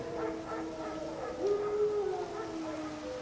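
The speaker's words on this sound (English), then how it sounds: "No. Wild dogs." Wild dogs howl in The Witcher 3 video game, a drawn-out faint howl rising over a low ambient background, distant and alone.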